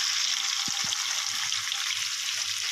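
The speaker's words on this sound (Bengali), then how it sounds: "ওলটাকে খুব ভালো করে ভেজে নিতে হবে, না হলে সেদ্ধ হবে না।" Chunks of elephant foot yam fry in a pan with a steady, dense sizzle and crackle, close and even throughout, broken by two brief low knocks near the start.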